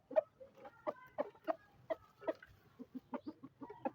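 A rooster kept with other backyard poultry clucks in a rapid series of short, close calls, steady and rhythmic, with no talking.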